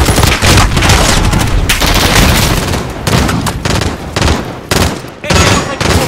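Dense gunfire in a trench shooter video game, loud overlapping rifle and machine-gun bursts with booms filling the whole stretch, barely pausing between volleys.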